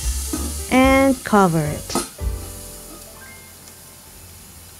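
Ribeye steaks sizzle in a Saladmaster pan, a steady soft hiss running under a few spoken words and fading as the pan is covered.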